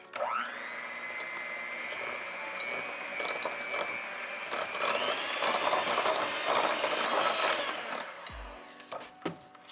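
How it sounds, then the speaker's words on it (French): An electric mixer whisks a mascarpone and honey frosting with a steady motor whine that climbs in pitch partway through, runs for about eight seconds, then cuts off, followed by a few light clunks. "je vais juste m'assurer de bien fouetter"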